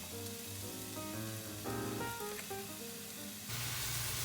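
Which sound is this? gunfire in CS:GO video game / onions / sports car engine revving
onions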